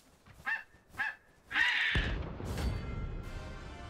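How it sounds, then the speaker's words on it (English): In a video game, a bird gives two short honks followed by a longer, louder goose-like honk, with a rumbling sound effect rising underneath as it fades. "Hello, bird."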